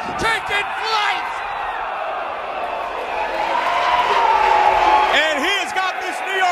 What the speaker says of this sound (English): The fans here in Queens, New York, going crazy for the young man.